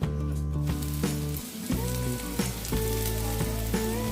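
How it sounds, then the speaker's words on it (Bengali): Chopped vegetables for chow mein, including carrot, potato, onion and capsicum, fry in a pan with a steady loud sizzle, while a tonal background hum with shifting notes runs underneath. "আমি একের পর এক সবজিগুলো দিয়ে দিয়েছি, এবার ভালো করে ভেজে নিই।"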